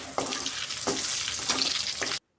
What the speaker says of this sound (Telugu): ఇలా కార్న్ చిప్స్ వేయించుకొని వేసుకోవాలి.